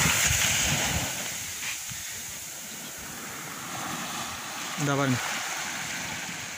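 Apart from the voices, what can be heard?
sea waves washing on the beach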